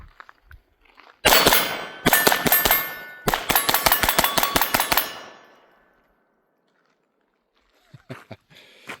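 A Taurus TX22 Gen 2 .22 pistol fires hollow point rounds in fast strings of sharp, loud cracks, one volley after another with brief gaps, then a few fainter shots near the end.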